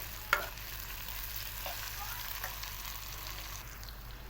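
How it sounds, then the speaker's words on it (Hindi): Onions fry in oil in a pan, turning golden for a chicken masala, with a steady close sizzle and crackle throughout, one sharp utensil tap near the start and occasional faint stirring. "अब प्याज को हम हल्का सा सुनहरा कलर देंगे।"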